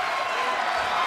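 Wrestling event crowd in an arena, a dense, loud wash of cheering and shouting that holds steady throughout the brief moment.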